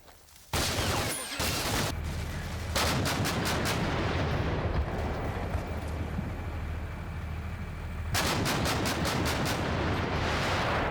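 Sustained battle noise from Combat Mission: Black Sea, with 30mm BMP cannon fire and automatic grenade launcher fire: loud, dense bursts of rapid shots and booming blasts, easing midway before another rapid volley.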